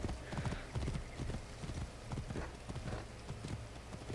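Steady clip-clop of horse hooves from Assassin's Creed Origins, a continuous rhythmic trot close up with a brief neigh-like whinny.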